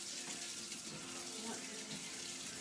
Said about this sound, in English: Spraying water all over my clean dishes.